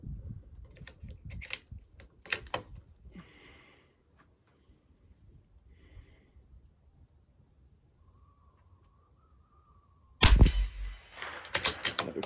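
A gun magazine change at a shooting range: sharp metallic clicks and clacks of the magazine being released and seated, close and crisp. Quiet gaps come between them, then a louder burst of handling noise near the end.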